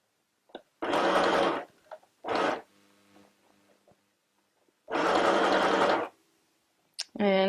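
Bursts of stitching from a portable electric sewing machine, three longer runs of rapid whirring with short pauses between, close and clear, plus a brief soft click near the end.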